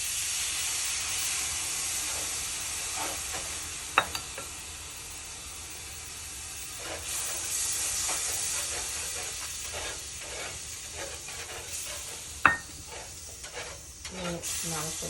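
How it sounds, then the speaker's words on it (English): A pan sizzles and hisses steadily while it is deglazed after cooking pork chops in a Dutch oven, with scraping and stirring sounds, a couple of sharp clinks and a quiet background throughout. "You still need to deglaze this pan."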